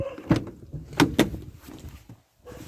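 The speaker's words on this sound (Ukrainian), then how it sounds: "якось ще двері відчиняють" A door being opened during unpacking of a parcel at a post office, a few sharp close knocks and clunks with mechanical rattling, then a short quiet pause.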